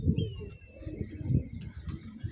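A pigeon coos in low, soft bursts close by, repeated several times over a couple of seconds, with thin chirps and background noise around it.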